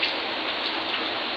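Steady, dense rain pours down during a storm, an even hiss of drops with no breaks.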